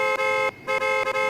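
A car horn honks in traffic, a loud, close, tonal blare in several bursts with short gaps and one longer break.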